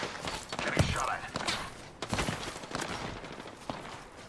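Dense, continuous gunfire and impact thuds in a chaotic Apex Legends firefight, loud and sustained with sharp bursts standing out.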